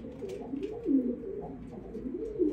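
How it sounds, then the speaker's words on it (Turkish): Long Face English and Mohican pigeons coo in soft, rolling bursts from close by, several low, throaty calls rising and falling over a quiet background. "Bunlar geçen senenin ve bu senenin kuşları."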